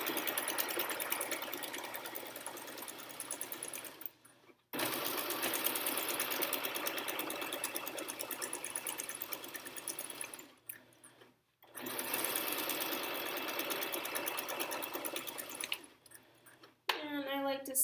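A sewing machine stitches over pins through a fabric pee pad in three long, steady runs of rapid mechanical whirring, each ending in a short pause, loud and close.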